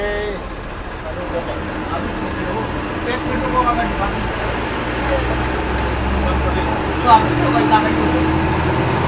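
An MSRTC ST bus engine running on the road, a steady loud rumbling drone with road noise heard from inside the moving bus, and people talking now and then over it.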